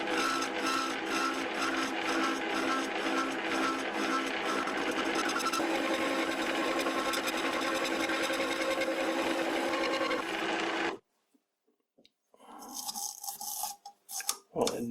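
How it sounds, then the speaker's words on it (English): A lathe turning at its lowest speed with plenty of oil cuts slowly into a metal workpiece, a steady close whirring, grinding drone with a rhythmic pulse that stops abruptly, followed by faint scraping and a few sharp knocks. "I will be using plenty of oil and feed it very slowly, running at the lowest RPM that this lathe can do."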